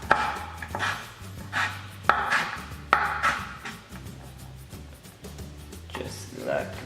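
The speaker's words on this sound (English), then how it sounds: "You're gonna start chopping them" A knife chops potatoes into cubes on a cutting board in a small home kitchen, with a run of sharp, irregular knocks close by, mixed with a few quieter cuts under steady background hum.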